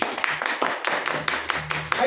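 Audience clapping in a hall, a short run of distinct, rhythmic claps at a moderate distance with a faint hum underneath.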